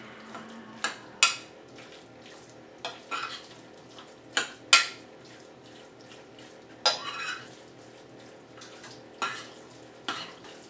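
Queso fundido with chorizo and rajas is stirred in a molcajete, giving about ten distinct scraping and clacking strokes over a soft, steady sizzle, close and fairly quiet.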